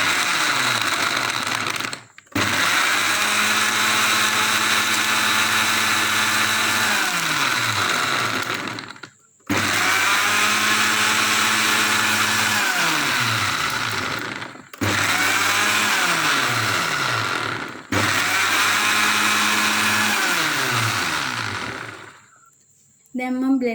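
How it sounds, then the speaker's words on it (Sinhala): A kitchen blender pulses through mango, milk and ice cubes for a smoothie, roaring loudly in four long bursts separated by brief pauses, with its pitch dipping and rising as the contents churn. "දැන් මම මේක බ්ලෙන්ඩ් කරගන්නවා."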